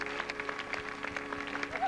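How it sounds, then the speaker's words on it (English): Studio audience applause on a 1983 British game show, a dense steady patter of clapping at moderate level with music playing underneath. "Give them a round of applause, folks."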